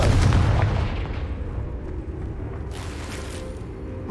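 A Confringo spell blast in the video game Hogwarts Legacy, a loud booming explosion at the start that rumbles and decays over a few seconds, followed by a softer whooshing burst.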